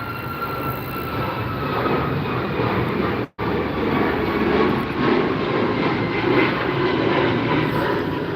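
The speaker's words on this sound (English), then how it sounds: "we've got a plane taking off" An airliner takes off at LAX, its engines a loud, steady broadband roar that carries on without a break and swells slightly toward the end.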